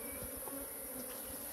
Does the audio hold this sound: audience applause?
no